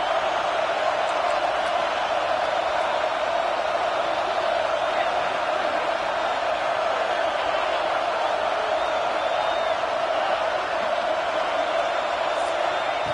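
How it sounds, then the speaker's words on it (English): Simulated stadium crowd roar at Penn State in a college football video game, a dense, steady wall of cheering that stays loud and unbroken throughout. "wow, listen to this crowd noise. This stadium is vibrating."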